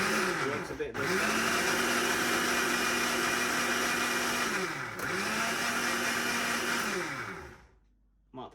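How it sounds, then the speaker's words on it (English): A blender churns eggs for spiced rum eggnog with a loud, steady motor whir. It spins up, dips briefly midway, then revs again before cutting off at the end. "Now make sure the blender is on."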